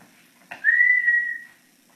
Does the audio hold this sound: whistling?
yes